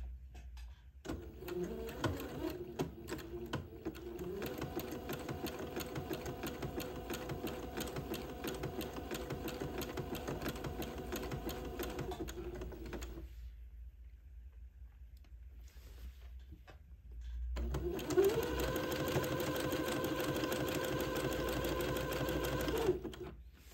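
A sewing machine runs steadily while zigzag stitching entredeux beading on a daygown, humming and whirring in two sustained bursts separated by a short silent pause, clear and close with no talking.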